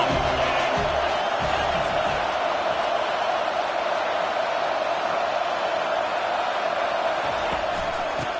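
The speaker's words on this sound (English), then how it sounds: "Decibels rising as the crowd gets behind this defense on 3rd down." Steady, loud roar of a college football stadium crowd cheering on third down in a USC versus Oklahoma game, a sustained wall of noise with no breaks across the whole stretch.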